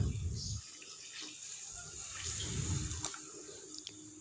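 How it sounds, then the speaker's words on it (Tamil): Tamarind water poured into a cooking pot, a soft steady splashing and trickling stream, fairly quiet and close, with faint talk over it. "அந்த தண்ணியை இதோடு நான் சேர்த்திக்கிறேன்."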